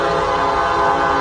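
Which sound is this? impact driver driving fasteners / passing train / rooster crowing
passing train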